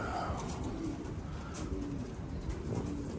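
Racing pigeons coo softly in a loft, low murmuring calls under a steady hiss of outdoor background noise.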